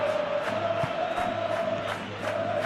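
Stadium crowd roar at kickoff in a Football Life 26 soccer video game, a steady loud wash of cheering and chanting throughout with a sustained whistle-like tone over it.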